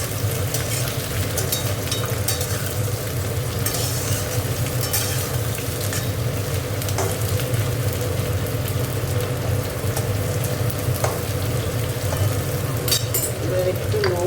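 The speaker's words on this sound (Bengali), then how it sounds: "দেখো ভাজা হয়ে এসছে" Onion stalks frying in a pan, a steady close hiss of sizzling oil with occasional stirring scrapes, continuous and even throughout.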